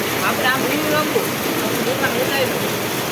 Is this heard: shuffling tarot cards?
no